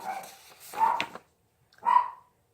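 Pet dogs barking indoors in two short, fairly loud bursts, the first a ragged cluster of yaps and the second a single sharp bark after a brief silence.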